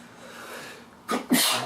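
A single sharp sneeze, close and loud, with a quick inhale burst right before it, over a quiet room background.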